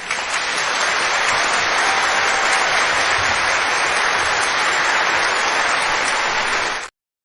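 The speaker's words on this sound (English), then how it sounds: "let's give a big clap" A crowd breaks into dense, even applause that holds steady for about seven seconds, then stops abruptly.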